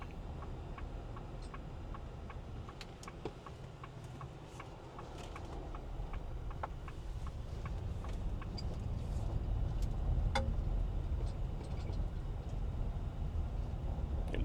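A car pulls slowly into a gravel driveway carrying a two-bike hitch e-bike rack, tires crunching on gravel under a low road rumble, with scattered small ticks and rattles as it rolls over bumps.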